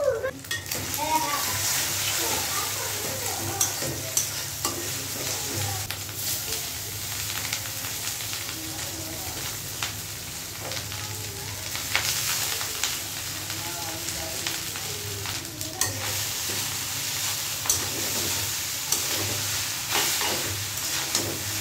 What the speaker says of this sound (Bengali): তো একটু নুডলস রান্না করব।